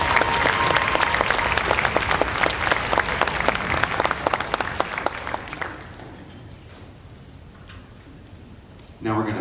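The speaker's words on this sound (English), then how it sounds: "If we can please give a huge round of applause to all of our families, parents." Concert audience at a high school symphonic band performance applauding, dense clapping that fills the hall loudly for several seconds and then thins out and fades, with a brief sound returning at the very end.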